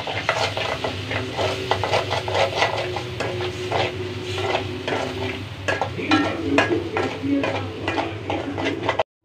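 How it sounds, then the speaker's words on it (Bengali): Sauce is stirred into noodles in a frying pan, with rapid repeated scraping and rubbing strokes of a utensil over a constant sizzle, close and busy until it cuts off abruptly. "এবার নির্দিষ্ট পরিমাণ সস ঢেলে দেই, নাড়াচাড়া করে দিই।"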